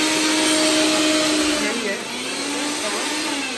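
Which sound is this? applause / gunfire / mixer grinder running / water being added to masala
mixer grinder running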